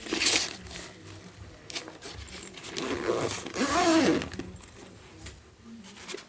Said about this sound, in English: There's another zippered compartment.